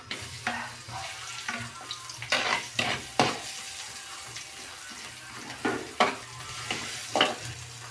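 Onion dropped into a hot pan for a chicken dish, sizzling steadily underneath a series of sharp stirring and clattering bursts, close and moderately loud.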